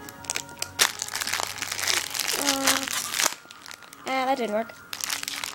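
Plastic wrapper around a fortune cookie crinkles and crackles as it is twisted and pulled open, close and fairly loud, with a person talking briefly.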